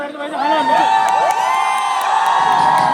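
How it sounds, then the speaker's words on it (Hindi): A press-conference crowd in Delhi cheers and whoops to welcome two Punjabi superstars, one of them Sonu Sood, loud excited shouts and clapping swelling over music. "एक बार जोरदार तालियां हो जाए"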